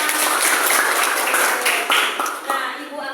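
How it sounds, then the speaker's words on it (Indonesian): Brief burst of classroom applause, a group clapping loudly and rapidly for a few seconds before thinning out, with voices over it. "Kasih tepuk tangan buat kita"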